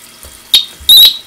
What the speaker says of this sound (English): I forgot to disconnect my homemade water alarm,